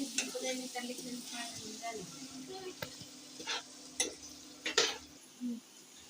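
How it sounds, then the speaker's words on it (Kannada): Upma is stirred in a frying pan over a soft sizzle, with scattered scraping and clinking strokes of a spoon against the metal, close and fairly quiet. "ಕೈ ಆಡಿಸ್ತಿದ್ದೀನಿ"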